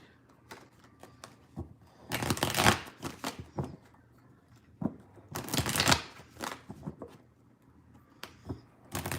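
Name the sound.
tarot cards being shuffled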